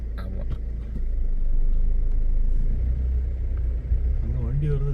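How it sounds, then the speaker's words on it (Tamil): A vehicle rumbles along a road through Thalavadi Forest, a steady low engine drone that swells as it nears, while people talk excitedly over it. "அங்கே வண்டி வருது"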